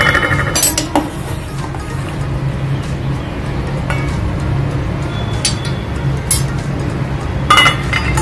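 A covered pot of sorghum popping on a gas stove gets shaken, with scattered glassy clinks and rattles over a low steady background hiss, the sharp taps coming irregularly and close by.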